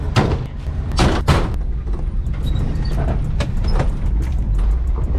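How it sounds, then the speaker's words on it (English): A 1975 International Scout drives on a test run, its engine rumbling low and steady with a few loud thumps and bumps early on, close by with no talking. "so we're gonna go for a little test drive"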